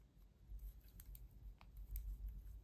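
Scissors snip yarn during crochet work on a baby jumpsuit, a few quiet, crisp cuts over a low steady background hum.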